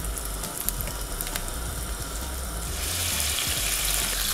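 Dried apricots fry in a pan, giving a steady, moderately quiet sizzle with faint crackles and a low background hum that grows a little brighter and louder toward the end.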